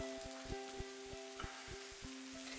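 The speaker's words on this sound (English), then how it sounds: "we're gonna let these sizzle" Steady, faint sizzling hiss from vegan French toast in a hot pan, with a few soft clicks and taps scattered through and a low hum underneath.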